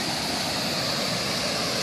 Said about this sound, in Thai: น้ำท่วมนี่คือน้ำไหลมาจากลำโพงบ้านสมพอ